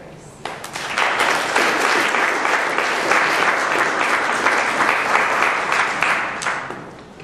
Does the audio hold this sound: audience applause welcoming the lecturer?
yes